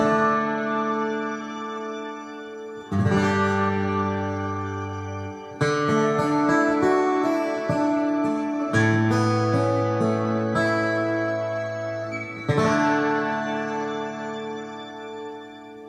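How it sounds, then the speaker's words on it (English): Electric guitar through a Strymon Blue Sky pedal on its shimmer reverb preset, sustained chords blooming into a dense, string-like wash of high octave tones that swells and overlaps continuously, played alone without talking. "it kind of adds like a sound of strings behind you, like a symphony."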